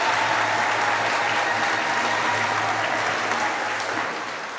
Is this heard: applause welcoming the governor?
yes